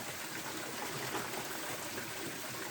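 Small waterfall stream behind a rubber plantation, water pouring out steadily in a continuous broadband rush, close and even, with no voices.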